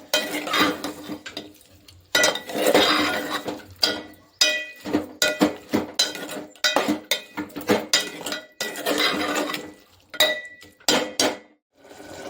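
Tomatoes with turmeric and salt being stirred in a pan, a spoon scraping and clinking against the metal in repeated irregular strokes with a faint sizzle between them, close and fairly loud with no talking.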